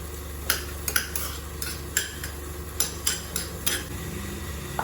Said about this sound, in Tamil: ஆனியனும் பூண்டும் உள்ள போட்டுக்கலாம். அது கொஞ்சம் வணக்கிட்டுன்னு